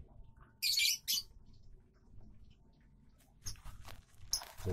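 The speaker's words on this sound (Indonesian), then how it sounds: "buat makan si burung lobet" Lovebird making sharp squawks and chirps while being fed corn, two loud bursts early then scattered calls near the end over quiet rustling.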